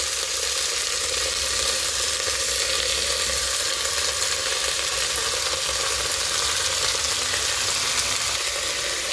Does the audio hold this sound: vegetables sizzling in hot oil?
yes